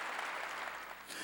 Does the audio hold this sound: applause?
yes